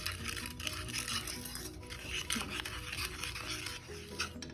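Custard being stirred into milk and sugar in a pan: a steady, soft scraping and swishing of a spoon through the liquid, continuous and fairly quiet, with faint background noise.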